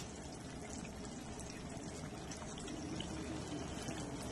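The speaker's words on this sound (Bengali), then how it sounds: "শেষে নামানোর আগে আমি দিয়ে দেবো ঘি, আর তার সঙ্গে দিয়ে দেবো কিছুটা গরম মশলা" Melted ghee is poured into a pot of taro curry with a continuous soft liquid pouring and trickling hiss, faint and steady throughout.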